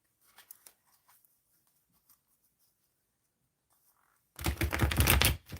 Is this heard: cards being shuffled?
yes